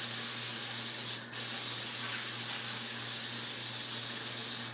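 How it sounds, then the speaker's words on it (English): Non-stick baking spray hisses steadily from a can onto a baking pan, one long continuous spray with a brief dip near the start, close and fairly loud, no talking. "I'm finna spray it with some non-stick baking spray."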